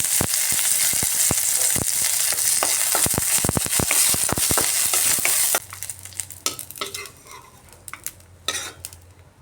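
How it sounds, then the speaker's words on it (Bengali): Raisins fry in hot oil in a pan, giving a steady, loud sizzle for several seconds. The sizzle then drops away to quieter crackling with sharp spoon scrapes and taps against the pan. "এবার ওই তেলের মধ্যে কিশমিশগুলো ভেজে নিচ্ছি"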